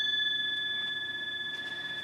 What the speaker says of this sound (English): So I'll ring my little gong while I'm dealing.